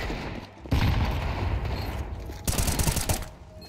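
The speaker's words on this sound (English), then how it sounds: "decided to shoot three bullets aside up through the smoke" Rifle fire in the video game CS2, shot through smoke: loud, dense bursts of gunfire in two close clusters, sharp and near, with no talking.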